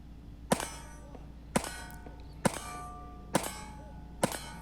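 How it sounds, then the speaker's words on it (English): Five evenly spaced gunshots, fired from a Daewoo rifle with extended magazines at a 3-gun match, each strike ringing off steel targets with a sharp clang and short metallic ring-out. "5 shots on steel."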